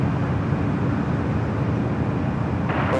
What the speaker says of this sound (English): Air Premia now rolling down at 24 left, heading back to Seoul in the 787-9